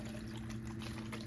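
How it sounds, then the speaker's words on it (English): About two cups of water and seasoning are poured around turkey wings in a pan, giving a steady, even liquid splash close by with no pauses and no talk. "And pour it around the turkey, okay?"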